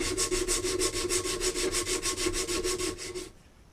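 Coarse sandpaper rubs rhythmically over a hardwood jerkbait lure master, with fast, even back-and-forth strokes up close that stop near the end.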